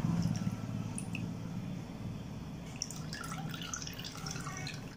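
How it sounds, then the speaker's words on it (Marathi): Water from soaked, rinsed rice drains through a sieve, dripping and trickling quietly and close up with scattered small drops and a soft steady patter, no voices over it. "पूर्ण पाणी निथळू देते मी चाळणीवर."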